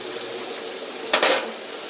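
Steak sizzles in olive oil in a cast iron pan for fajitas, a loud steady frying hiss with a short scraping stir near the end.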